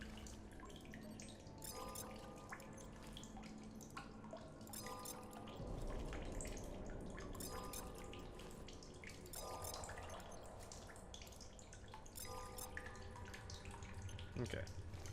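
Water being collected from a source in the Solus Project survival game: steady trickling and dripping run through the clip, with brief louder splashy stretches, under a musical game background.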